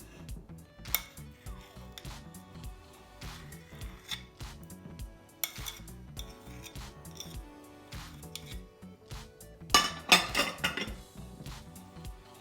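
Utensils scrape and clink irregularly against a bowl while chicken, potato and cheese ingredients for a Tunisian tajine are mixed, with a louder burst of metallic clatter near the end.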